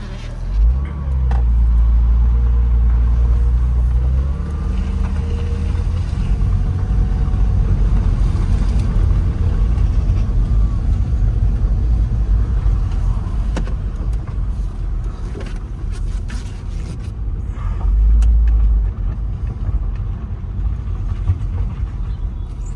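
A Porsche Boxster runs up and down a yard, its engine a steady low rumble that swells and eases with gear changes, close to the listener and with no voices.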